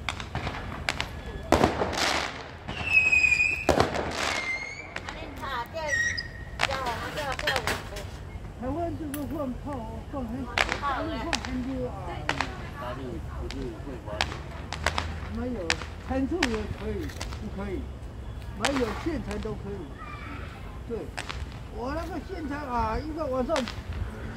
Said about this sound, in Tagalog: may paputok na